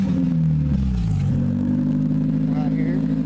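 A 2016 derby car engine runs fast while warming up, with a close, steady rumble and some clatter, and someone speaks over it.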